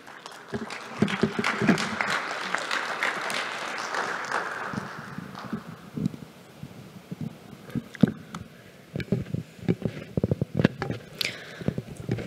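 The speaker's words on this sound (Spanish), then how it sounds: "Así que un aplauso para Erika Vega." An audience applauds at the opening session of a conference, starting as dense clapping, then thinning into scattered individual claps toward the end.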